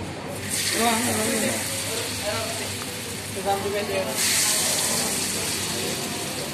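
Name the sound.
frying tempeh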